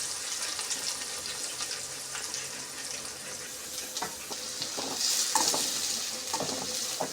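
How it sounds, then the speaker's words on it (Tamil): Steady sizzling of small onions sautéing in oil in a pan, with occasional stirring scrapes, close and moderately quiet. "சின்ன வெங்காயம் போட்டு வதக்கணும்."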